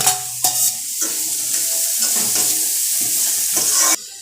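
Capsicum fries in a hot pan, with steady close sizzling and scraping stirring strokes, broken by a few short pauses and sharp restarts.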